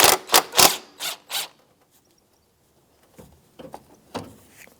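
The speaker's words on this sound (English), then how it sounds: "Now we're going to loosen up the alternator belt tensioner" A 12mm socket ratchet loosens the alternator belt tensioner on a 2004-2009 Subaru Outback: several loud, close clicks in quick succession, a pause, then a few softer clicks.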